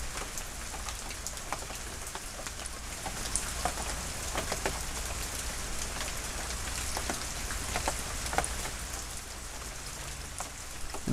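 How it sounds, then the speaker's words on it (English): Heavy downpour of Pineapple Express rain pouring steadily and loudly, a dense continuous hiss of drops striking surfaces throughout, with no voices. "the heavens have just opened up right now, and it is absolutely pouring"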